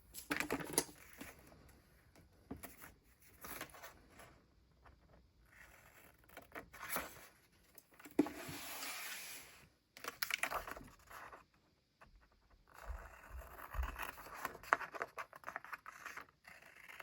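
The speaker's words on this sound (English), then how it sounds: "we'll cut out this little section and then use the scissors on the rest of it" Paper being cut on a cutting mat with a blade and then trimmed with scissors for a bullet journal page, giving soft, close scratchy strokes and snips in irregular bursts with pauses between them.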